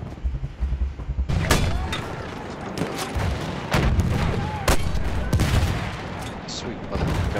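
Rapid loud booms and gunfire-like blasts go off in quick succession in Battlefield 1, punctuating a busy, noisy game soundscape.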